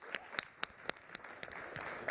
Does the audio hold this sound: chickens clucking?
no